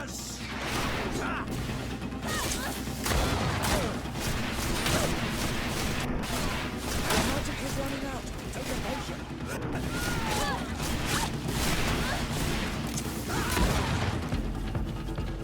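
Rapid gunfire from a fantasy action game, repeated sharp shots in irregular bursts mixed with thuds and impacts over a steady background, with a voice talking at times.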